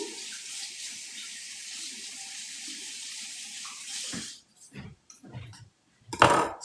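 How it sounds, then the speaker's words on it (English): Running tap water rinsing a knife at a kitchen sink while making mushroom pasta, a steady close hiss for several seconds, then shutting off into brief splashes and clinks. "Rinse my knife."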